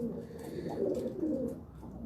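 A Tali wala breeder pigeon on a rooftop loft gives soft, low cooing in short rolling phrases, faint and close, with a quiet background murmur.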